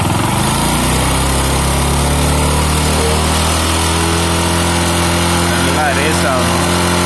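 Close, loud Bajaj Discover 150 motorcycle engine running after a speed-screw adjustment, revving up and holding a steady buzzing idle with strong harmonic drone throughout, a brief rising rev near the end.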